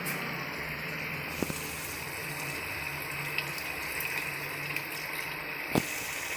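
Water poured into a pot of mutton biryani, a steady running, gushing stream heard alone at moderate level for several seconds with a couple of brief knocks.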